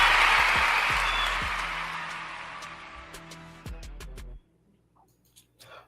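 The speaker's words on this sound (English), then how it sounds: "A round of applause." A round of applause from a crowd, fairly loud and dense at first, thinning out over several seconds and stopping abruptly near the end, with a few sharp claps and tonal bleeps mixed in.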